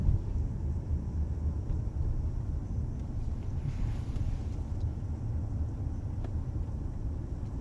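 A 2005 Lexus ES 330 with a worn wheel bearing produces a low, steady droning rumble while driving, with constant road noise and no voices.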